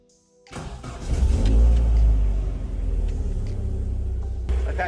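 After a moment of near silence, a car engine cranks and catches, surging loudly before settling into a steady, close running idle.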